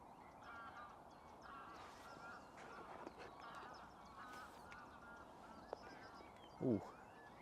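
Ducks and geese honk and quack around a fishing lake at a fishery, faint and distant over steady outdoor ambience, with one louder honk near the end.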